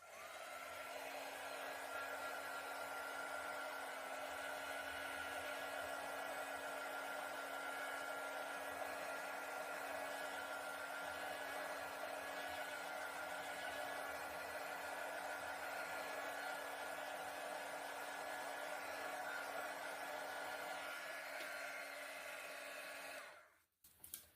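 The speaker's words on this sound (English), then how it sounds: "I'm going to hit this with a heat gun" A heat gun blows steadily on an acrylic funnel pour mixed with silicone, a constant whining airflow with a steady tone that holds for over twenty seconds and then cuts off abruptly.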